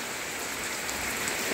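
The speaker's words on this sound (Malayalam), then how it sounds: "നല്ല മഴയാണ് കേട്ടോ, ഇറങ്ങാൻ പറ്റുന്നില്ല." Heavy rain pours steadily and loudly onto surfaces, a dense, unbroken hiss with no voices, as someone waits it out under an umbrella before setting off.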